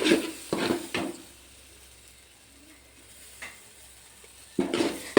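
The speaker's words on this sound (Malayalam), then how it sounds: "കൺസിസ്റ്റൻ്റ് ആകും അതുവരെ ഇളക്കിക്കൊണ്ടേയിരിക്കണം നന്നായി ഇളക്കിക്കൊണ്ടേയിരിക്കണം" Papaya halwa being stirred in a pan, with a few scraping, rasping strokes near the start and end and a quieter gap between, close and fairly loud.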